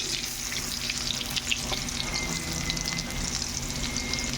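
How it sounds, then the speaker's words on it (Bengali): Potatoes fry in hot oil in a pan for a Bengali-style chicken dish, giving an even, close, crackling sizzle that runs steadily throughout with faint bubbling and no speech. "আলুগুলো ভেজে নিচ্ছি।"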